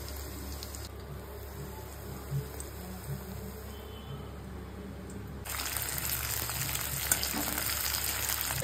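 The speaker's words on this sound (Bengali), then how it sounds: "ম্যারিনেটেড চিকেনগুলো ভেজে নিচ্ছি।" Marinated chicken pieces for chilli chicken frying in hot mustard oil, a steady sizzle that grows noticeably louder and denser partway through, with faint clinks and no talking.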